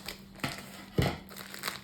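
Wrapping paper being crumpled and folded around small items, a few close, sharp crinkling bursts separated by short quiet gaps.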